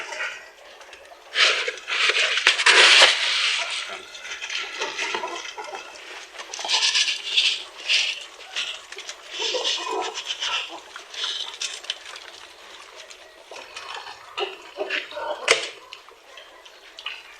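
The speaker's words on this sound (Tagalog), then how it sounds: "ngayon, nagpakain muna tayo ng ating mga biik" Piglets eating at feeding time: a continuous wet, slurping and snuffling clamour with splashing and occasional squeals, close by and steady throughout.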